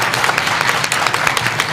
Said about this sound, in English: Yes, we can clap for that.